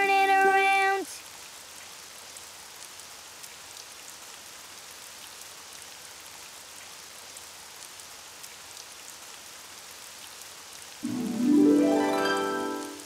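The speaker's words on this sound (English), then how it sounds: "it's raining outside" Gentle rain falls steadily in a soft, even hiss, with short sung or tonal vocal sounds at the beginning and end.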